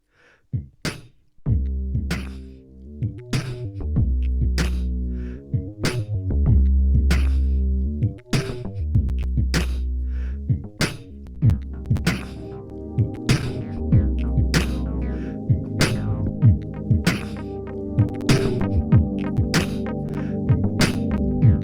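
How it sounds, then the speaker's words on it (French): A music track intro built in Logic plays alone: a deep throbbing bass pattern pulses under crisp percussive hits at a steady tempo, with the texture thickening partway through. "Ce que vous venez d'entendre, c'est l'introduction du futur morceau que je vais élaborer pas à pas pour vous montrer"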